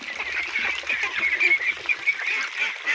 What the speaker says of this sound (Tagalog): ganun po kalakas kumain ng asula yung ating alagang itik